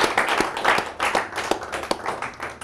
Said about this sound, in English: let's give them a round of applause and appreciate them.